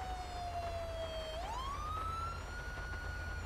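A police siren in GTA 5 wails steadily, sliding down in pitch and then rising again, over a constant low engine rumble.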